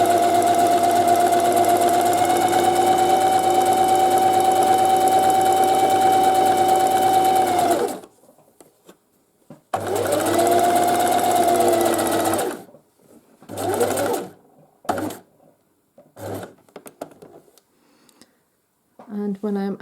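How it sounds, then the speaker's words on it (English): A sewing machine stitches knitted fabric along a marker line for a steek in a knit cardigan, running in long steady bursts with pauses between, loud and close, followed by shorter intermittent runs. "I will stitch up along the other side of my marker"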